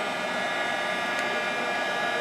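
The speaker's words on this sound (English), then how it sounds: "We're going to turn on the gun, let your heating gun heat up before you put it onto your project." A heat gun for embossing powder, used while making a butterfly shaker card, blows with a steady, even whooshing roar that holds unchanged throughout, close and fairly loud, with no talk over it.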